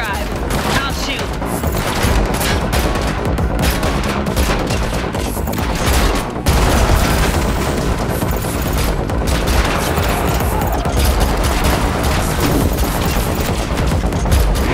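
Rapid gunfire in The Matrix Awakens on PS5 during a car chase, loud continuous bursts of shots with booming hits, a short drop in intensity midway before the barrage resumes.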